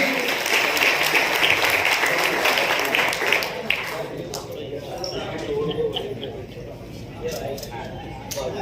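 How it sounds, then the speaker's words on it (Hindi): Loud, dense applause from an audience at a Unani Day celebration at a resort in Dhule, a steady wash of many hands that softens after a few seconds into scattered claps under talking and room noise. "जोरदार तालियां होनी चाहिए भाई"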